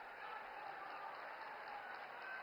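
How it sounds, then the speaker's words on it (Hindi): At a Lok Sabha 2024 election rally in Saharanpur, Uttar Pradesh, a large crowd applauds to welcome Modi. The clapping is steady, distant and faint, with a hum underneath. "आपसे आग्रह है जोरदार तालियों से मोदी जी के स्वागत में करतल ध्वनि से स्वागत कीजिए।"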